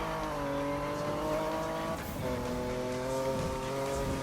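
BMW M3 GTR races in the video game Need for Speed Most Wanted, its engine droning steadily with shifting pitch and a brief dip near the middle, no talking over it.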